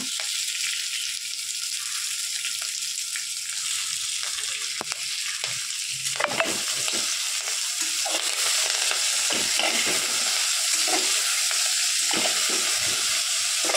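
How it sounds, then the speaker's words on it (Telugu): Chopped sorrel leaves (chukkakura) hiss and sizzle steadily in a hot pan indoors, with occasional scraping and stirring sounds over an even, continuous fry. "ఇప్పుడు కోసుకొని చుక్కకూర ఒక 2 కట్టలు వేస్తున్నానండి నేను"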